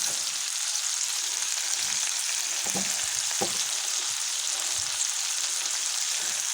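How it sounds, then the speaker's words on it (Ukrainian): Onion stewing in soy sauce in a pan gives a steady, close sizzle with a few soft stirring knocks in the middle, with no talking. "соєвого соусу і буду тушкувати, доки цибуля не розтушиться повністю і не перетвориться на соус"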